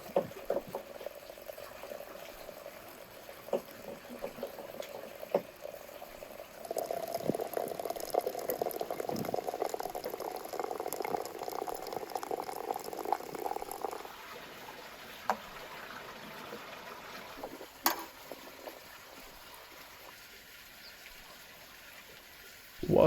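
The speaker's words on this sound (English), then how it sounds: "Boiling water is a breeze with my trusty samovar." Water boiling in a samovar over a wood fire outdoors, a steady bubbling rumble that swells louder partway through, with a few sharp clinks and pops scattered over it and no talk.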